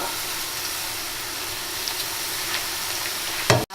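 Onions and mixed vegetables with turmeric and curry powder frying in a pan while being stirred, a soft continuous sizzle with light scraping, ending in a brief clunk of the spoon against the pan.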